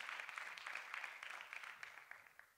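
Audience at a FameLab International 2015 science-communication semi-final claps for a contestant, dense steady applause that tapers slightly toward the end, heard from some distance and fairly faint.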